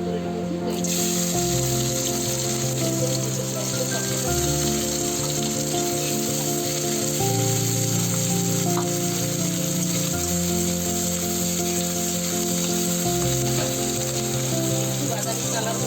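Three whole onions, chopped small, frying in oil for a Bengali chicken kosha, giving a steady broadband sizzle throughout, close and continuous, under a sustained low musical drone.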